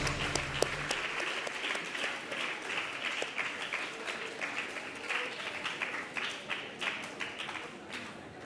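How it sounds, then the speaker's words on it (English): An audience applauds to welcome the Netherlands ambassador at a school leadership lecture: sustained, moderately distant clapping that continues for several seconds with faint crowd sounds. "with a thunderous applause."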